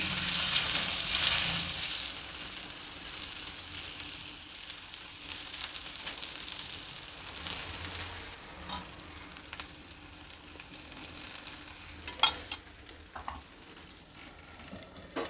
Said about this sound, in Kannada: ಹೆಂಚು ಬಿಸಿಯಾಗಿದೆ ಮೊದಲನೇದಾಗಿ ಸ್ವಲ್ಪ ಎಣ್ಣೆ ಹಾಕಿಬಿಟ್ಟು ತಗೋ ಮೇಲೆ ರೊಟ್ಟಿ ಬೇಯಕ್ಕೆ ಹಾಕ್ತೀನಿ